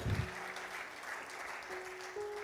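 A seminar audience gives applause, a steady, moderate wash of clapping heard throughout with a low hum beneath.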